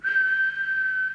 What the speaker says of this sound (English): Actually slightly high on the whistle test.